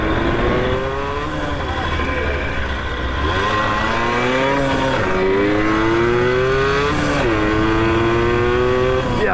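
Yamaha YSR 50 small motorcycle engine buzzing steadily while riding, pitch rising through the gears with repeated upshifts and climbs, loud and close with wind noise throughout.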